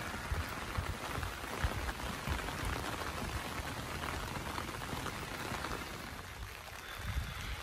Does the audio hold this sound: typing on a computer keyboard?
no